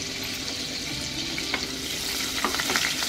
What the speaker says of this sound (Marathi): एक 2 मिनिट चांगलं परतवून घ्यायचं।